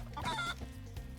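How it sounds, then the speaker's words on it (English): A chicken in Spyro: Year of the Dragon gives a short burst of clucks, clear and upfront, then fades into the game's low background sound with no one talking. "Nobody cares about the chicken either."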